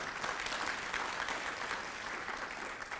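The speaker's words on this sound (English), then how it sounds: "If we can give her a round of applause, please" An audience at a hall of fame ceremony applauds continuously, a dense, even patter of many hands clapping at moderate distance with no speech over it.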